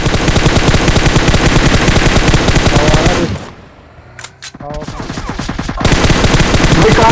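Loud, rapid automatic gunfire in a video game, a continuous rattling stream that cuts out for a couple of seconds of near quiet and scattered single shots before the full burst resumes.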